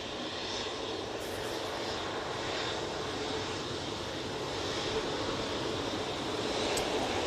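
Aer Lingus airliner crossing overhead near Manchester Airport, a steady broadband engine roar holding level throughout without talk.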